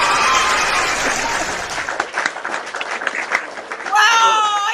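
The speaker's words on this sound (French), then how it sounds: "Applaudissez pour notre compagnie d'abord." Audience applause for a company at a talk on credit repair, a dense wash of clapping that dips and swells midway before surging again near the end, with faint crowd murmur mixed in.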